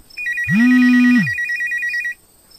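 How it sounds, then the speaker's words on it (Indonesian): A Nokia 3310 mobile phone rings with a steady, rapidly pulsing electronic tone lasting about two seconds, loud and close, with a brief low swooping sound near the start. "terlebih dulu ponsel Nokia 3310 yang dipegang berdering"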